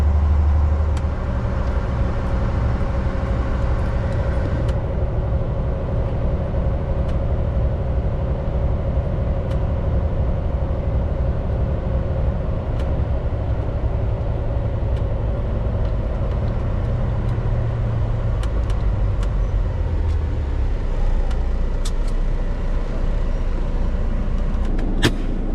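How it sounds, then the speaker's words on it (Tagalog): Heavy trucks idle in a roadside truck line-up, a constant low diesel rumble throughout with faint hiss and occasional clanks, steady and close without talk. "Ay, mga truck naman dito"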